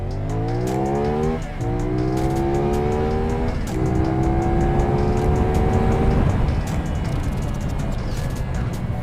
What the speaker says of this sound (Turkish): Egzoz sesi çok güzel. Şurada bir gaz açalım.